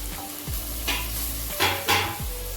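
Chopped ingredients for an empty salna gravy sizzle steadily in a hot pan as a spoon stirs and scrapes through them, a few louder scraping strokes over the continuous frying hiss.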